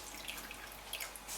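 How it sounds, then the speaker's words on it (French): Mineral water trickling and dripping into vegetable glycerin for homemade toothpaste, a soft, steady liquid patter with faint splashes close by. "on va mettre l'eau minérale avec la glycérine végétale"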